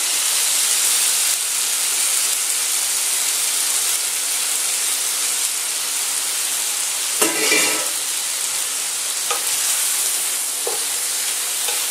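Squid ink spaghetti tossed into a hot pan with seafood, garlic and tomato, giving a steady broadband sizzle with a brief louder burst of stirring partway through; no voices.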